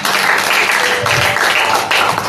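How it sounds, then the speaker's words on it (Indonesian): A church congregation claps together in a dense, loud burst of applause at a sermon, sustained for a couple of seconds. "Tepuk tangan untuk Tuhan."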